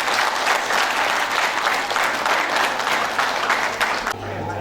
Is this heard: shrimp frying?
no